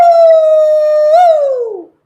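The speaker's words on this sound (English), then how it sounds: "Let me see if I can get a howl from you." Long sustained dog-like howl, loud and close, holding one steady tone before rising briefly and sliding down to fade out, alone with no talk.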